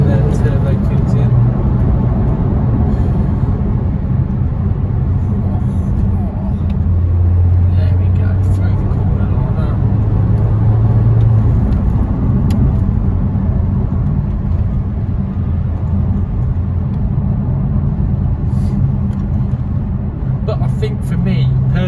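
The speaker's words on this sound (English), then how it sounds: "And then the turbo kicks in." Inside a Porsche 997 Turbo with a manual gearbox, the engine hums as a loud, steady low drone while the car accelerates, and someone talks over it throughout.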